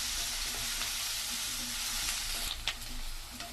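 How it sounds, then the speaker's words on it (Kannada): Pumpkin fry ingredients frying in a pan until golden: a continuous close sizzle with light stirring scrapes, brief louder clatter near the end, no talking. "ಎಲ್ಲ ಚೆನ್ನಾಗಿ ಫ್ರೈ ಮಾಡ್ಕೋಬೇಕು. ಸ್ವಲ್ಪ ಗೋಲ್ಡನ್ ಫ್ರೈ ಆಗಬೇಕು."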